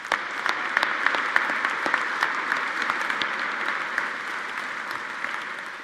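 Sustained audience applause at a university winter commencement ceremony, a loud, dense wash of many hands clapping steadily in a large hall, tapering slightly toward the end.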